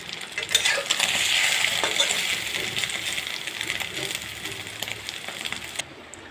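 Egg omelette mixture sizzling in a wok, a bright, steady hiss of frying with faint scraping and stirring clicks, loud and close, cutting off abruptly near the end.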